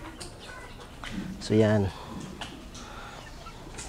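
A hen used as a breeding fowl gives a short, loud burst of clucking close by, with someone talking briefly before and after.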